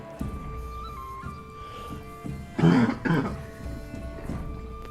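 A sick man coughs and clears his throat in two harsh close bursts, with quieter throat noises before and after against a faint background.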